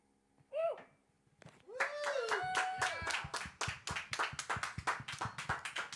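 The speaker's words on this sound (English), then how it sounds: "Where's my wee round of applause there?" Guests at a Burns supper give a small round of applause, starting after a brief vocal sound and rising into a quick run of distinct hand claps, fairly close and modest in size, with a few voices mixed in.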